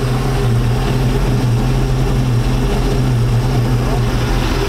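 A 1999 Chaparral 1930 SS boat engine idling in neutral around 650 RPM, a steady low droning rumble with a constant hum, loud and close throughout.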